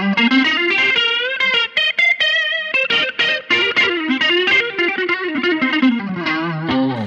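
A semi-hollow, 335-style electric guitar through a Line 6 Helix with a chorus-like, effected tone plays a quick melodic line of short picked notes, clear and close with no voices.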